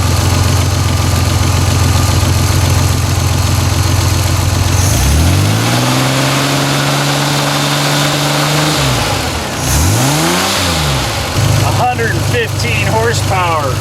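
A Ford Bronco II with a 2.8 V6 that resists starting runs loud and close, holding a steady rough drone, then swelling into a couple of revs that rise and fall before settling back.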